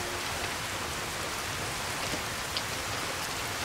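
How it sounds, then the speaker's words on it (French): Steady rain falling in the video game Skyrim, a dense, even hiss of drops on surfaces with a few closer patters, no voices. "Et en plus, il pleut,"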